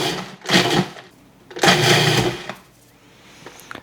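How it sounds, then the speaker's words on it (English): Sandwich cookies with filling are crushed into crumbs for a no-bake chocolate lasagna, heard as two loud grinding bursts separated by quieter pauses, with faint clatter at the end. "we're just going to crush these up to make crumbs"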